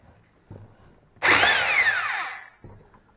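A power tool whirs loudly for about a second and a half, removing the pulley from a Honda GCV160 lawn engine off a broken brush hog, its pitch dropping as it spins down, with brief clunks before and after.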